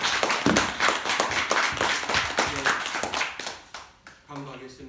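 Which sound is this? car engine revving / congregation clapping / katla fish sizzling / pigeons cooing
congregation clapping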